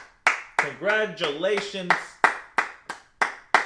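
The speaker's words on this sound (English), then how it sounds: "Round of applause." Claps ring out in a room for the winning cake builders, about ten sharp, evenly spaced claps that sound more like one or a few people than a full crowd, while a voice speaks over the start.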